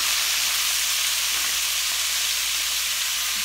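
Frozen broccoli tipped into a hot pan with sausage for a stir fry, giving a steady, loud sizzling hiss that holds evenly throughout, with no talking.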